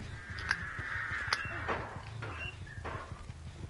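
Crows caw in the horror video game Dead by Daylight, with several harsh, rasping calls at a middle distance over a steady game ambience and soft thudding steps.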